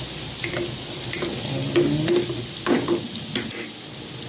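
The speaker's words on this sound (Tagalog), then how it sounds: "Nilagay ko na yung bawang." Garlic fries in hot oil in a pan as part of a chicken afritada, a continuous close sizzle with scattered scraping stirs and small clinks, no voices.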